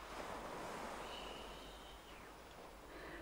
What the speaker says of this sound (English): And you listen to the waves,